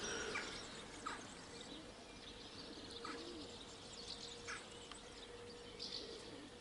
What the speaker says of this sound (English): There's swallows, there's house martins.